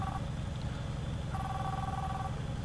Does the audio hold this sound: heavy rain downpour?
no